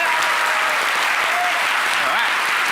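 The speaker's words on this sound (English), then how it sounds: "Final round of applause for Michael Anderson." An audience at a London comedy science event applauds, a dense, loud, continuous clapping that holds steady throughout.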